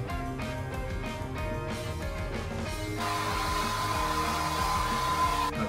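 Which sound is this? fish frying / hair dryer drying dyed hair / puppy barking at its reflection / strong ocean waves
hair dryer drying dyed hair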